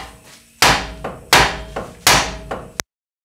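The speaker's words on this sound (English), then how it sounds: "So I'm just gonna whack this knuckle with a hammer until this thing falls out." Hammer blows striking a steel steering knuckle on a 2009-2015 Honda Pilot during front hub bearing replacement: three loud, sharp metallic whacks, each followed by a softer rebound hit, close and alone.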